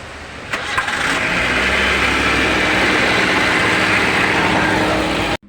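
A Nissan Sentra engine cranks and starts after an oil and filter change, a brief starter whir and then a loud steady idle that cuts off abruptly at the end.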